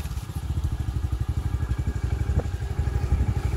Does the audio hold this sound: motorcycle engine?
yes